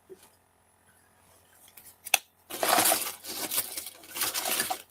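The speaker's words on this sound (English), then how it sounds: "Oh, little pair of scissors." A sharp click, then a stretch of close crunching and snipping from small scissors, in uneven bursts.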